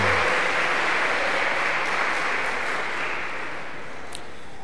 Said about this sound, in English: Please join us in congratulating the class for this achievement with a round of applause